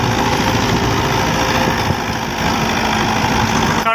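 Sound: old 1984 Mahindra 575 tractor engine running

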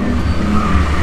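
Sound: car engine revving at a stunt show

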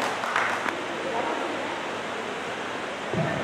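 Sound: applause from the audience

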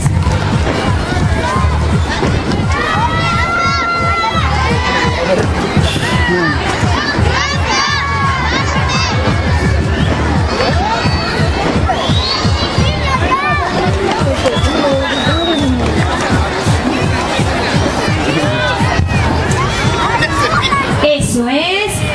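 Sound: crowd applauding and cheering at a festival

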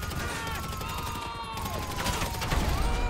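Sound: gunfire in video game GTA V Online

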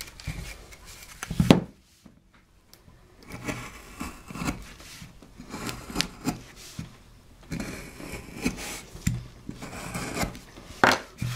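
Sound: carving wood to enlarge an eye socket

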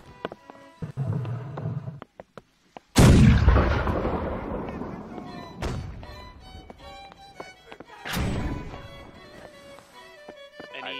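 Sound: chain shot fired from a ship's cannon in a naval battle video game

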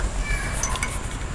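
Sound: cat meowing

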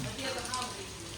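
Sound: rain dripping

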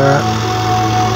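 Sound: tractor engine running

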